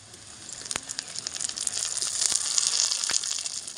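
Soaked cashews and raisins sizzle steadily in a hot pan of oil, a bright close frying hiss with a few sharp pops and utensil taps, and no talking.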